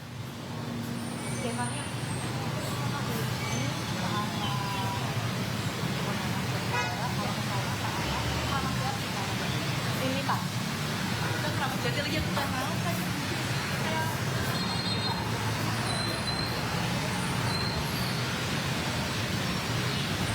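Jammed cars and motorbikes crawl along a flooded road at Cawang, Jakarta, a continuous roadway rumble with scattered horn toots over dense background noise, while a reporter talks throughout.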